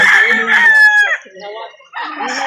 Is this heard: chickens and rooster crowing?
yes